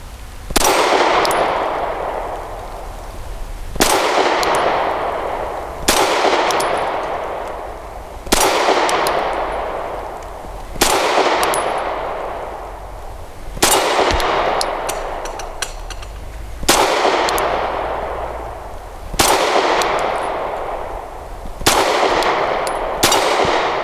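Pistol shots from a Grand Power P1 Ultra ring off a distant moving steel target, each sharp metallic clang decaying slowly, about ten impacts spaced a couple of seconds apart with no talking.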